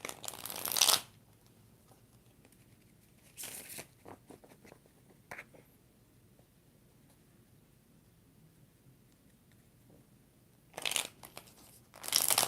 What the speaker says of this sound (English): 4 shuffles for Carmen